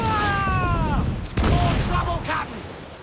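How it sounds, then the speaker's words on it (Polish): Deep, booming blasts of explosive barrels in Assassin's Creed IV Black Flag burst through a busy mix, with a heavy explosion landing mid-clip and smaller bangs trailing after. "Rzucać te beczki wybuchowe."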